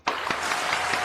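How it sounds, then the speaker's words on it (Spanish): Audience applause in a Lima TV and radio studio, a short, dense burst of clapping that starts abruptly and holds steady for about a second. "así que un aplauso fuerte para él, Michel Celivega."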